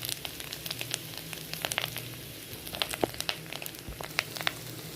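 Ground turmeric, chili, coriander and cumin powder fry in hot oil, a steady soft sizzle with scattered crisp pops and crackles as the spices are stirred, no voices over it.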